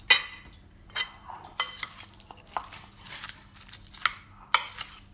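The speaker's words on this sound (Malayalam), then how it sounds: "ഇതെല്ലാം കൂടെ നന്നായിട്ടൊന്ന് മിക്സ് ചെയ്യണം" Chicken being mixed with onion and chili powder in a metal vessel, a string of uneven scraping and clinking strokes from a spoon, close and fairly loud.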